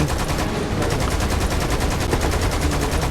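Machine gun fire from the video game Lost Planet 2 rattles out in a loud, continuous rapid stream of evenly spaced shots, close and unbroken from start to finish.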